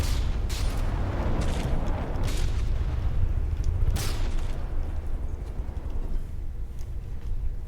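Torpedo strikes on a ship in the naval game From the Depths: a loud, sustained low rumbling boom with several sharp blasts cutting through, rolling on for several seconds without talk.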